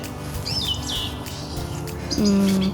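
Birds chirp in an arboretum with quick, high tweets and warbles over soft outdoor ambience, then a louder, sustained call near the end.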